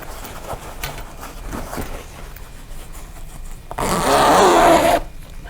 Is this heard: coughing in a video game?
no